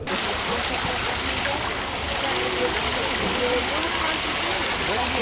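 A garden water feature at a flower show gives off a continuous broadband rush of flowing and splashing water. Voices talk over it, and the sound stays steady and fairly close.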